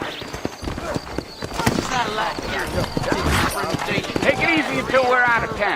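Horse hooves clip-clop at a steady, rhythmic pace in the video game Red Dead Redemption, sounding moderately close under ongoing character dialogue.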